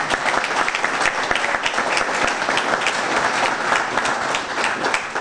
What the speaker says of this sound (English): please give Reverend Keeling a round of applause for all of his work